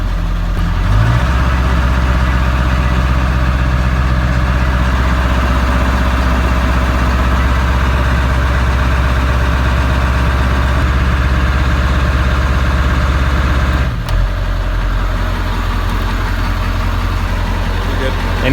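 A Ford 7.3 Powerstroke diesel truck engine runs loud and close, a heavy steady low rumble that holds throughout with a brief dip near the end, while people talk over it.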